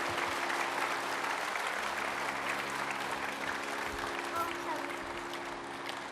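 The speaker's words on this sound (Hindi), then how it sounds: "बार जोरदार ताली बजा दो, बड़ा उत्साही बच्चा है।" An audience at a gathering claps together, a fairly faint continuous patter of applause heard from a distance, with some voices mixed in.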